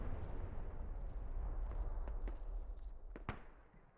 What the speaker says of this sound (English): the double rallies in that compound just getting peppered by those mortar blasts